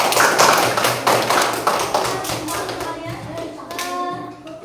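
A classroom of pupils claps together in a burst of bright, rapid applause that slowly thins out, with some voices mixed in toward the end.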